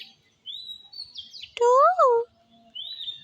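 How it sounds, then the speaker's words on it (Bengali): Birds chirp in a village in spring, high thin tweets repeating near and far, with a louder rising-and-falling tonal call cutting in briefly midway. "কত সুন্দর পাখির কিচির মিচির"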